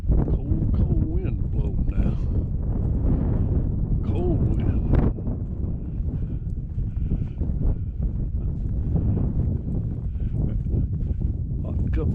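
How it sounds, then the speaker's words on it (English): A cold wind blows in a snowstorm outdoors, buffeting the microphone with a constant low rumble while someone talks over it throughout. "Cold wind blowing now."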